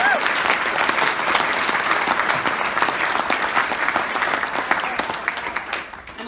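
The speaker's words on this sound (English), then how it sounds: "So let's give one more round of applause." Loud, dense audience applause at a charity ball keynote, a steady wash of many hands clapping that holds for several seconds, then thins and fades toward the end.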